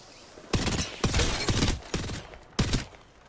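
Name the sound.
gunfire in a video game, Apex Legends ranked match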